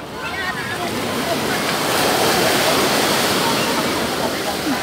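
Ocean surf rolls in at Stanley beach, a crowded shoreline, as a broad, steady wash of breaking waves fills the scene with wind buffeting the microphone throughout.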